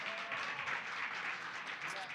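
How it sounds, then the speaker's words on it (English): Brief round of applause at a community crowdfunding event in an arts center, a short, even patter of many hands with some voices mixed in. "Can we give him a round of applause?"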